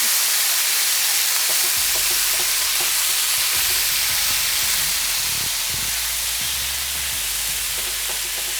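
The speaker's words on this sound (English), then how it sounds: "So that loud sizzle is exactly what you want." A steak sizzles loudly in a hot pan, a steady bright hiss with crackles and pops, close up and continuous.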